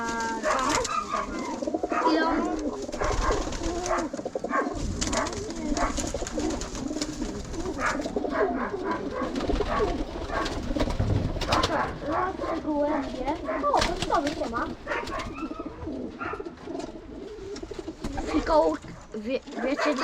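Pigeons in a loft with an aviary coo continuously, layered and close, with voices talking over them and a faint dog bark at one point.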